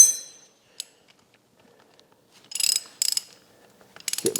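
Socket wrench work during an oil change on a Bobcat S850 skid steer, heard as a few short bursts of quick metallic ratcheting clicks separated by quiet pauses, fairly close and with no talk.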